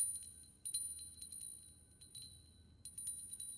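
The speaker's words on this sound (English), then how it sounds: "Oh, it's just a normal bell." A small bell in an anime episode rings faintly in repeated light tinkling bursts, high and delicate over a quiet low background hum.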